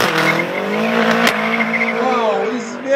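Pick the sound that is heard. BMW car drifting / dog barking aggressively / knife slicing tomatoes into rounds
BMW car drifting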